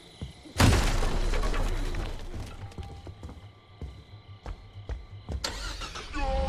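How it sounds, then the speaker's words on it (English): A car engine in the Friday the 13th video game cranks and catches with a loud burst, then keeps running with a rough mid-pitched rumble over clattering game sounds before surging again near the end. "Oh, somebody got the car going."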